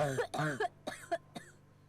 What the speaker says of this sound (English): A coughing racks my body now that I don't feel like choking